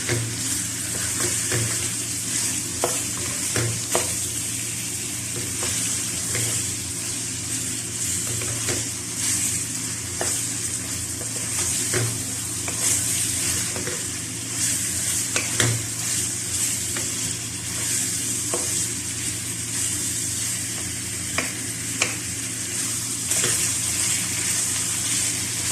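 Chicken frying in a karahi for green karahi, a continuous loud sizzle with regular spatula scrapes and clacks against the pan, repeated stirring strokes throughout with no talk.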